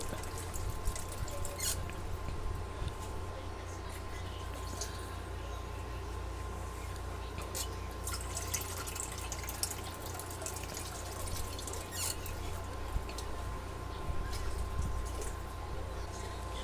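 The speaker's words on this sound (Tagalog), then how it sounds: "Lagay na po tayo ng tubig." Water runs and splashes steadily into a cooking pot, a continuous liquid pour with faint dripping over a low background hum.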